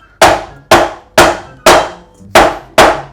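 A hammer strikes a hard coconut shell trying to break it open, six loud, evenly spaced thuds with a sharp knock each, close up and with no talk.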